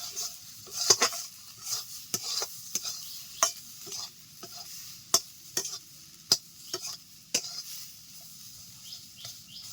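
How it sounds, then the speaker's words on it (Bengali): Drumstick leaf mash stirred in a frying pan: sharp, irregular scrapes and taps of a spoon against the pan over a faint, steady sizzle, close and fairly quiet, with no voices. "দেখো তিন চার মিনিট নাড়াচাড়া করে নিয়েছি"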